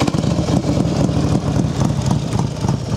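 A Harley-Davidson Ultra Classic FLHTCU motorcycle with 14,634 miles runs close by, giving a steady, loud low rumble with a fast pulsing beat and no pauses and no talk.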